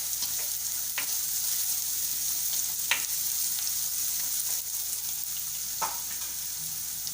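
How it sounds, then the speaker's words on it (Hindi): Teaspoon of poppy seeds (khaskhas) sizzling steadily in a pan for Banjara dal, a continuous close hiss with a few sharp stirring scrapes and clicks, no voices. "और 1 छोटा चम्मच खसखस का, इसको भी फ्राई कर लीजिए थोड़ा सा"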